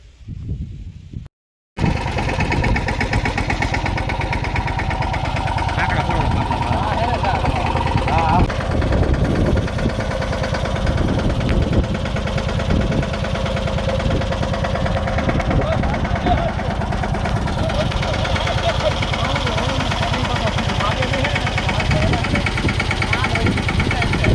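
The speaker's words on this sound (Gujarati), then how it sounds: "જો હમણાં ટ્રેક્ટર આ બાજુ આવે એટલે દેખાડું તમને" A tractor engine runs steadily after a brief cutoff at the start, rumbling and holding a loud, even idle throughout.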